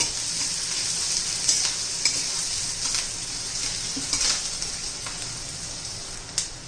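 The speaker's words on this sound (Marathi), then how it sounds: "कांदा चांगला कच्चेपणा जाईपर्यंत परतून घ्यायचा आहे" Chopped onion sautés in a pan for a sprouted green moong usal, a continuous hissing sizzle broken by occasional scraping stirs, close and steady with no talking.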